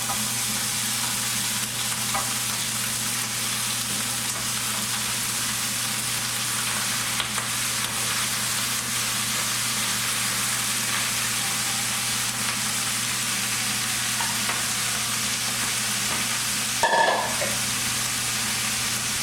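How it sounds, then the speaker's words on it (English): Vegetables, including poblano peppers, sauté in a skillet with a constant, close sizzle and crackle, a brief clatter of stirring near the end, and no talk. "I'm going to put them in the skillet and saute them until they're tender."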